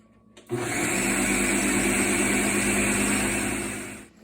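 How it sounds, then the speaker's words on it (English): Electric blender whirring through a persimmon bread batter, starting abruptly after a brief quiet and running as a loud, steady motor drone for about three and a half seconds before winding down. "And then we'll go ahead and blend this up first."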